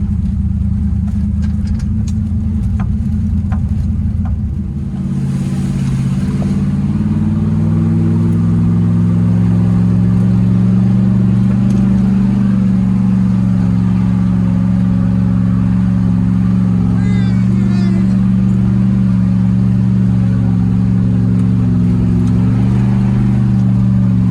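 A 1989 Range Rover Classic with a modified exhaust rumbles loud and close throughout, its engine note rising and settling as it pulls away slowly off-road, a steady throaty drone with no talk.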